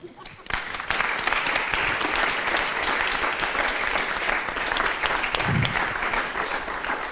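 A conference audience at an economics of AI event breaks into a sustained round of applause, dense and even clapping from a large room that starts abruptly and carries on for several seconds.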